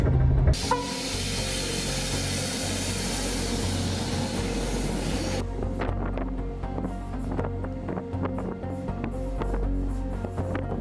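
A train on the Ofotbanen railway, the northernmost line in Europe between Narvik, Norway and Kiruna, Sweden, rumbles through snow and ice with a low steady drone and wind rush, then clacking rail noises, loud and continuous.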